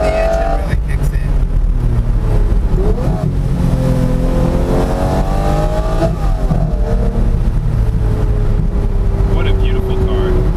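Lamborghini Murcielago SV engine climbing past 5,000 rpm on a mountain run, rising and falling pitch sustained for ten seconds under steady wind and road noise, with people talking over it.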